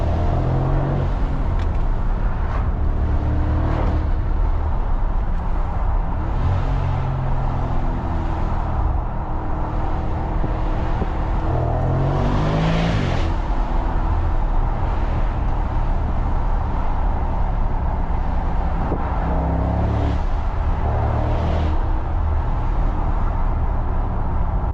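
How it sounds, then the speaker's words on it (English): Mercedes-Maybach SL 680 accelerating hard, a steady loud engine roar with rising sweeps as it pulls through the gears and a breathy turbo swoosh layered over the rumble, continuous throughout with no talk. "Definitely we hear a lot of like a swoosh from the turbos and this sort of sucked up noise."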